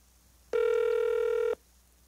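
A telephone dial and ring tone on a Korean military FM radio show as a call is placed to a listener, one steady loud multi-tone signal lasting about a second, standing alone.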